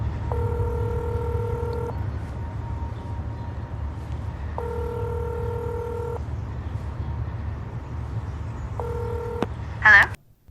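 A telephone ringback tone sounds in three long buzzing pulses with pauses between them over a low, steady rumble of background hum, ending in a brief sharp click.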